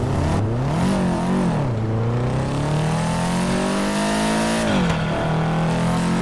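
A Subaru Impreza WRX STI engine in GTA 5, loud and steady, revving up and dropping back as gears change, with tonal pitch swings that fall at each shift before climbing again.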